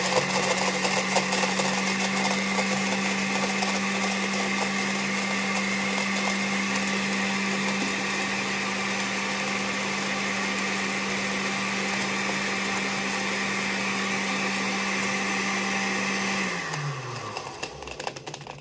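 A blender runs steadily and loudly, crushing ice and pineapple for a tequila margarita, a constant motor whine that winds down and stops near the end.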